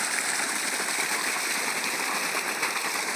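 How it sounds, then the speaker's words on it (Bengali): Water pours steadily from the outlet of a solar-powered pump, a continuous close rushing splash with no breaks, like a small waterfall. "এই জল আসছে। এই হচ্ছে জল আসছে।"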